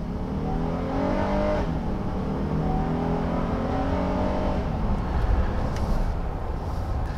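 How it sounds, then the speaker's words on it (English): A 2019 Honda Ridgeline Black Edition AWD pickup with a 3.5-liter V6 accelerates steadily, its engine note rising in pitch through the gears at close range, loud and continuous with no talk. "I'm going to get this vehicle up to speed so you can check out the power"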